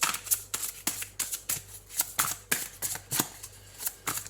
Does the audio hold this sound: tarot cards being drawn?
yes